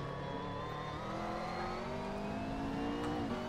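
A McLaren MP4-12C in the Assetto Corsa racing sim accelerates out of a corner at Spa, its engine note climbing steadily in a continuous, loud whine with a slight dip near the end.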